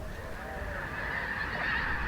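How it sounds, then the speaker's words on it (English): Snow geese honk repeatedly in a continuous, overlapping chorus, moderately loud and somewhat distant. "look for swans and gaggles of geese"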